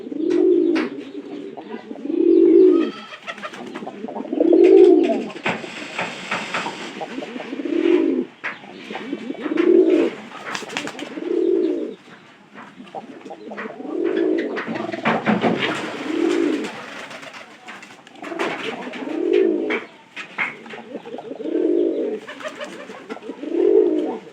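Two newly acquired pigeons coo in repeated low, rounded phrases, each lasting about a second and separated by short pauses across the whole stretch, close and fairly loud, with a few faint rustles and brief noises in between.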